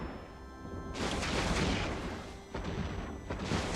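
A fleet of ships in EVE Online fires on a structure, a sudden heavy barrage of booming, crackling weapon fire. It swells, dips briefly and then surges again in rough, overlapping volleys.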